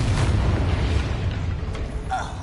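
A Confringo blasting spell explosion in the video game Hogwarts Legacy, a loud, heavy rumbling boom that lingers throughout with a faint voice near the end.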